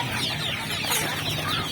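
Chickens in a netted pen enclosure clucking together, a dense, continuous layer of overlapping fowl calls close by.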